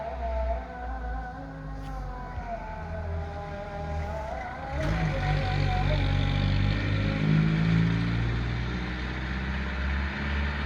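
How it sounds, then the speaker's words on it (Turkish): Car engine approaching fast outdoors, its hum growing louder and rising in pitch as it closes in, while a person speaks and calls to a dog nearby. "Araba geliyor çok sert bir şekilde."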